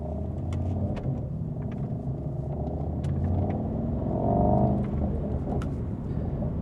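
A Mercedes-AMG GT63 4Matic+ Ultimate driving, its engine a steady low rumble that swells briefly as it pulls harder, heard from inside the car with road noise and no talk.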